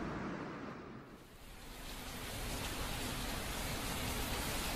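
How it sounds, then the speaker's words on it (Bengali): Heavy monsoon rain pours down as a dense, steady hiss, dipping briefly and then swelling back to a full, even downpour with no voices. "এই সময় বৃষ্টিটা বেশ জোরেই এলো, বর্ষাকালের বৃষ্টিরই মতো।"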